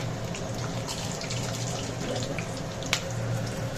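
Whole garam masala and dried red chillies crackle in hot oil for chicken rezala, giving a steady close sizzle with one sharp pop near the end.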